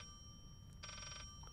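An in-game telephone in the horror game Layers of Fear rings with one electronic trill of rapid repeated pulses, moderately loud over a dim ambient drone, with no voices.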